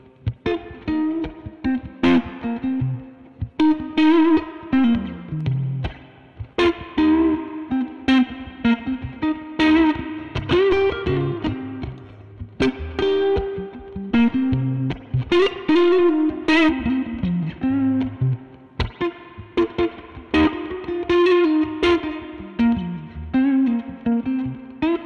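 Electric guitar through the Benson Chimera amp plugin with reverb placed between amp and cabinet, played alone as a continuous distorted phrase of picked notes and chords with a spacious wet tail.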